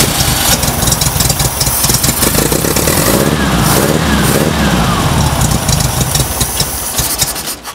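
A carbureted VW engine runs at idle, close and loud, with a steady throbbing, slightly uneven rumble that continues throughout while a voice talks briefly over it.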